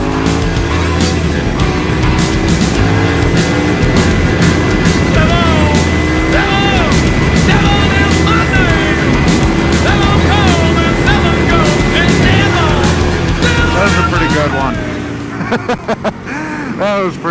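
A KTM Super Duke R motorcycle engine revs loud and close while the rider holds a wheelie, a sustained rising and falling roar with wind noise, easing off and sputtering in the last few seconds.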